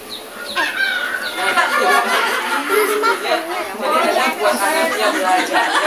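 Hens cluck and a rooster crows from a talking toy book, with a tinny, electronic quality, while people chat over it.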